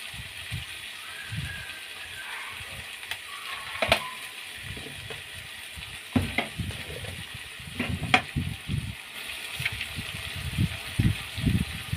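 Spice mix sautéing in a pan, a steady low sizzle under frequent scraping and stirring clinks of a spatula against the pan, close and moderately loud, with no talk.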